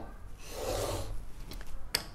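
A tool is rubbed back and forth on sandpaper, giving a steady, close, gritty rasping sweep that swells and fades, followed by a couple of brief scraping strokes.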